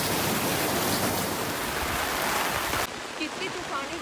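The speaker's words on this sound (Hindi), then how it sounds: "कितनी तूफानी बारिश हो रही है बाप रे।" Heavy stormy rain pours before dawn at Trimbakeshwar, India, in a dense, steady roar, dropping slightly in level near the end but continuing without pause.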